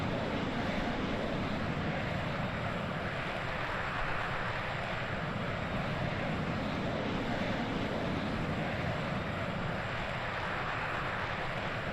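Steady, dense roar of a Boeing B-52 Stratofortress's eight jet engines in Microsoft Flight Simulator 2020, a constant broadband drone heard from outside the aircraft with no speech.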